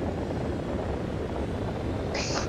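A small jet aircraft engine in the air-combat game War Thunder, a steady, dense roar that holds at constant loudness throughout, with a brief higher whine near the end.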